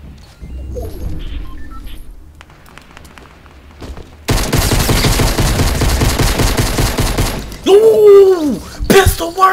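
Rapid bursts of gunfire in the video game Fortnite, dense, loud repeated shots filling the second half with a sharp whooshing sweep near the end, following a quieter stretch of background game sound.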